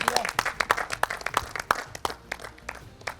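Scattered clapping from a small group on a Hindi-language reality competition show, sharp separate claps in an uneven rhythm, close and fairly quiet, fading toward the end.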